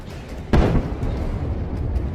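A Russian tank is destroyed near a settlement by the explosion of an FPV drone: one sudden, heavy blast bursts out about halfway in, then leaves a loud, rumbling roar and crackle that continues to the end.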